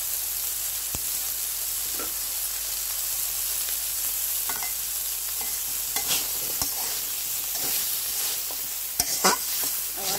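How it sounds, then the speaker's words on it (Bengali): Water lily curry topped with chopped coriander sizzles steadily in a frying pan while a utensil stirs it, scraping in irregular soft knocks close by, with no talk. "আবার একটু ভালো করে নাড়াচাড়া করে নিচ্ছি।"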